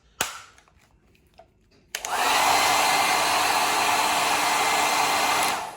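A HiFairy hammerhead-style hair dryer set to full heat starts after a sharp click and a few faint handling sounds, then blasts a loud, steady, close airflow roar that holds until a brief dip at the end.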